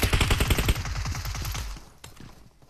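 Shotgun and automatic gunfire in a custom-room match of an online shooter game, a rapid burst of loud, close shots for over a second, then tapering into fading echoes and a lone later shot.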